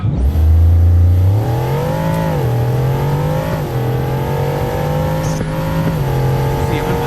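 A Bugatti Chiron accelerates hard in the BeamNG.drive racing game, its loud, steady engine roar rising in pitch through shifts and holding a sustained drone, with no other sounds.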